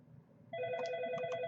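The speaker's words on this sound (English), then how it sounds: "sorry about my phone ringing." A phone starts ringing partway through with a steady electronic ring and a few repeated chirps, fairly clear over a quiet room with no talk.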